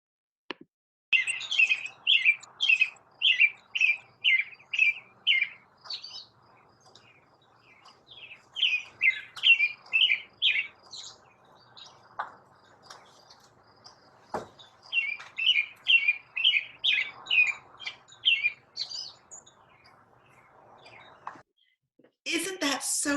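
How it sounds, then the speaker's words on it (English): A robin sings repeated bursts of quick, bright chirping phrases separated by short pauses, clear and fairly close against a quiet background. "see if you can sing a song like a robin can"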